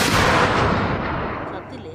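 A single gunshot in the Indian Bike Driving 3D video game, a loud broadband blast that decays slowly over about two seconds, heard alone.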